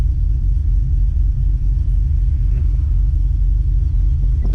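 An LS-swapped square body truck engine idling rough, fuel trims maxed out and close to dying, gives a loud, close, low rumble that pulses unevenly throughout with no talk over it.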